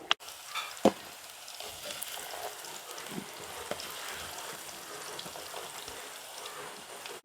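Bitter gourd slices frying in hot oil until light golden, giving a steady, soft crackling sizzle with a few sharper pops and light stirring clicks, moderately close and alone without voices.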